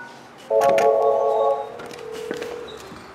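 A Yealink IP phone being dialed gives off a steady electronic tone lasting about a second, then a fainter, longer tone follows, with a few soft clicks and quiet room noise around them.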